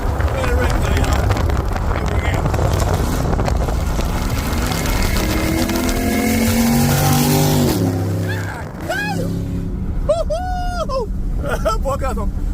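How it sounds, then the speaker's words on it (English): A racing car roars past with loud, sustained engine noise and wind buffeting, the pitch sweeping as it goes by, while people talk excitedly close to the microphone. "Look at that racing car, y'all. We're rolling on a racing car."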